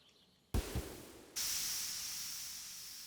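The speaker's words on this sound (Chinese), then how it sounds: "这是车停下来的声音。" A bus pulls to a stop in the video game Stardew Valley with a couple of low thuds, then a sharp burst of air-brake hiss that slowly fades.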